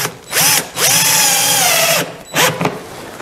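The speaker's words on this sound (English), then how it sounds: "So I'm just putting them on with self-tapping galvanized screws." A power drill drives self-tapping galvanized screws into a camel back trunk, in three close, loud bursts of whining motor, the middle one longest, with each run rising and then falling in pitch.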